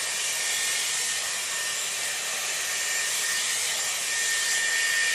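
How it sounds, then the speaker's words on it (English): A Dyson Airwrap round brush hair dryer blows continuously with a steady, airy hiss and whine, close and even in level for the whole stretch, with no talking. "the heat of the dryer will start to work through every time you bring the brush through"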